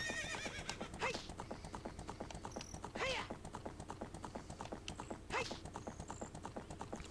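Horse hooves clip-clopping in a steady trot in the Zelda 64 Spaceworld '97 demo video game, with three whinnies rising over the hoofbeats, quiet game audio with no talk.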